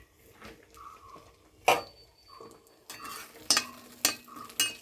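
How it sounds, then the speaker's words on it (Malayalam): Curry leaves and dried chillies hitting hot oil in a cheenachatti pan, giving soft sizzling with a few sharp spatters and clinks of a spoon stirring, fairly quiet and close. "ചീനിച്ചട്ടി വെച്ച് എണ്ണ ചൂടാകുമ്പോൾ അതിനകത്ത് കറിവേപ്പില"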